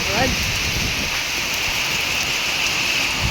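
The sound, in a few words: heavy rain falling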